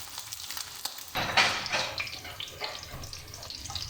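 Egg cutlets sizzle in a frying pan over medium heat, a steady crackling hiss that swells louder after the first second and keeps up with scattered pops, close by and without talk.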